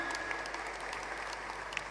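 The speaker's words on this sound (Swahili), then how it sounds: "makofi mengi tena." Audience applause closing an annual engineers' day conference, sustained even clapping from a large hall crowd, fairly faint and distant, with no talking over it.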